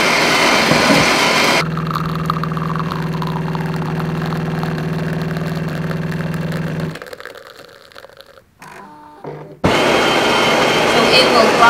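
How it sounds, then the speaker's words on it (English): A Jura E8 super automatic espresso machine grinds coffee beans with a loud, steady mechanical whir for several seconds, then stops; a quieter brewing hum follows with brief clicks before the noise resumes. "So it will grind and then brew, and then grind a second time and brew a second time."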